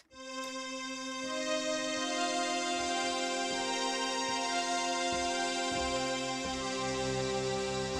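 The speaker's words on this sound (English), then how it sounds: "of course, we have the diamond string, which sounds like this." Diamond string synth pad from Rob Papen BLADE-2, a sustained, bright string-machine chord swelling in and holding steadily throughout, with subtle chord changes and no talk.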